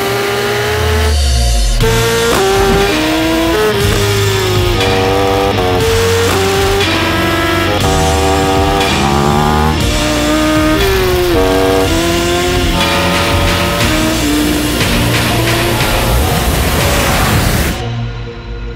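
A superbike engine revs hard on a racetrack, loud and unbroken with stepping pitch changes and dense layered tone for about eighteen seconds before cutting off abruptly.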